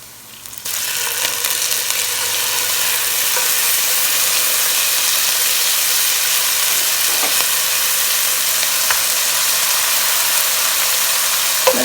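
Chopped onions fry in a pan while cooking a ground beef, rice and potato casserole, giving a steady, close sizzle that stays even and fairly loud throughout, with a few faint clinks and no talking.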